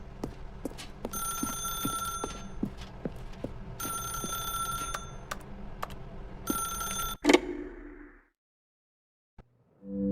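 A telephone in The Stanley Parable rings in steady repeated bursts, fairly loud and close, with no talking, then falls silent after a final clack near the end.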